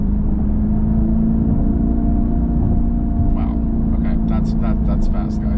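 An electric 2025 Dodge Charger Daytona Scat Pack accelerates on a highway, heard as a steady, loud in-cabin drone of motor whir and road noise, with a voice speaking over the last couple of seconds.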